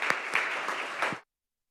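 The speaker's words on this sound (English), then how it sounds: "One last round of applause. Let's give it up, loud as you can." The audience at a Springfield City Council proclamations meeting gives a round of applause, with dense, lively clapping and a few sharper claps standing out before it cuts off abruptly.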